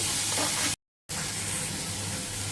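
Finely chopped tomato hitting hot oil with turmeric and salt in a pan for a cabbage dish, a loud continuous sizzle that briefly cuts out, then resumes steadily, close and without talk.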